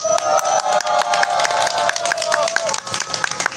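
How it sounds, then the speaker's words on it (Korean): Crowd at a union rally outdoors breaks into steady applause and clapping, a dense patter of many hands with scattered cheers, fairly close and continuous throughout. "더 열심히 싸우시라고 큰 박수 부탁드립니다."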